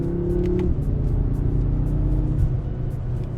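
BMW M6 Gran Coupe V8 engine, a steady loud low rumble that changes pitch early on as revs shift, then holds a deep even drone with no talk.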